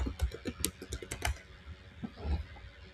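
Computer keyboard typing in short bursts of crisp keystrokes, close and fairly loud, a quick cluster at the start, a pause, then a few more taps, with no talking.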